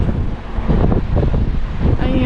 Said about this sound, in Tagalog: actually, ang hangin Day, ang lamig